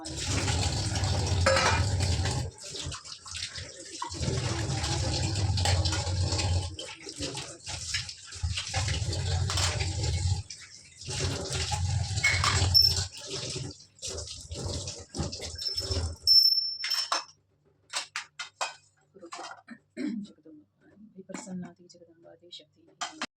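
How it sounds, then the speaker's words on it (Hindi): Tap water runs and splashes steadily while puja utensils are washed, with metal vessels clinking against each other. Someone talks over the water, and the running stops partway through, leaving scattered clinks and drips. "और फटाफट से धो लिए जाएँ पूजा वाले बर्तन"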